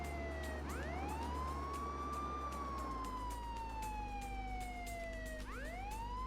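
Police car siren in the Contraband Police video game, wailing in long rising and falling sweeps over a low steady engine hum, fairly faint and continuous, with no voices.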